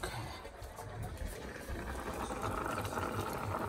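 Water runs into a kitchen sink while a pot is rinsed out, a steady moderate splash close by with clatter on top.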